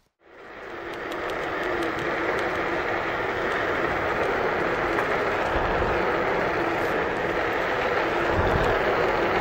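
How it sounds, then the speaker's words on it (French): A Kukirin G2 800W suspended electric scooter rolls along a road, its tyres giving a steady broad rushing hiss that swells in after a moment and holds level, with occasional low thumps. "Le bruit des pneus est vraiment contenu, je trouve."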